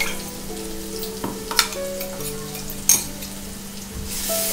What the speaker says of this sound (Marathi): आता ते वाटण टाकते केलेलं. ते पण थोडं फ्राय करायचं पाहिजे ना